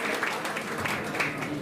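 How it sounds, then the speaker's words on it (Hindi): Applause from a seated audience welcoming the chairman of the Delhi government's OBC commission; a steady wash of many hands clapping at moderate level through the whole moment, with no pauses. "जोरदार तालियों से इनका स्वागत करेंगे"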